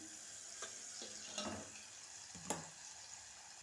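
Ginger garlic paste fries quietly in a pan with a faint steady sizzle, broken by a few soft spoon scrapes and taps as it is stirred.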